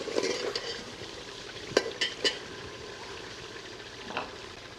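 Chicken meat goes into hot frying masala for achari chicken, giving a steady sizzle broken by a few sharp scrapes and clanks of stirring in the pan.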